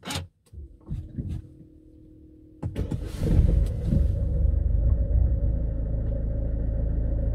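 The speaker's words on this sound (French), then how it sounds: "Donc on coupe le contact. On le remet, on démarre." A car engine is started after its air flow meter was replaced: a brief starter crank, then the engine catches and settles into a steady, loud idle rumble close by, running alone without talk.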